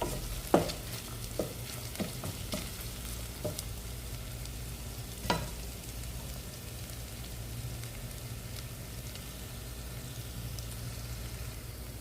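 Masala with dried red chili fries in a pan with a steady low sizzle, punctuated by a few sharp scraping knocks of a spoon stirring early on, then continuous quieter frying, no voices.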